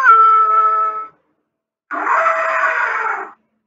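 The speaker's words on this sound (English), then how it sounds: "So this is the sound of the elephant." An elephant trumpets twice, a loud harmonic blare lasting about a second, then after a short silence a second, rougher and fuller call of around a second and a half.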